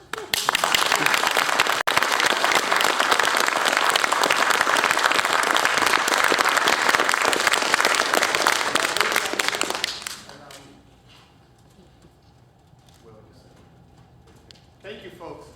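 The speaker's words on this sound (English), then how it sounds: "That deserves a round of applause." Audience applause at a US Air Force technical sergeant's retirement ceremony, a dense sustained round of clapping for about ten seconds before it fades to quiet room tone.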